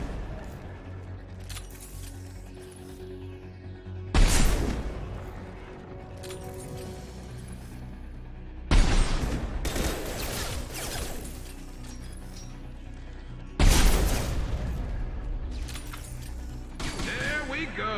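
Three loud rifle shots in a shooter video game, spaced several seconds apart, each a sharp blast with a ringing tail, between quieter stretches of game ambience.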